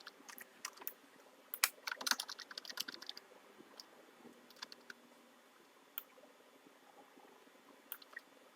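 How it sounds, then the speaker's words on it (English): Computer keyboard keys, likely the arrow keys, are pressed during 3D modeling software work, making a close, dry run of irregular clicks that come in a quick flurry and then slow to sparse single taps. "Now you can use the arrow keys to move it"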